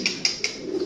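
A racing pigeon from Ambarawa gives a brief coo, three soft pulses close together, nearby and fairly clear with no talking.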